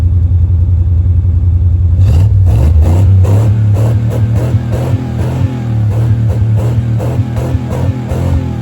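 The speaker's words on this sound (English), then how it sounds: "I have a muffler on there for now, and I'll leave an exhaust note" A car engine idles, then its muffled exhaust rumbles louder with a deep, pulsing throb and rhythmic clattering revs, close and steady, with no talking.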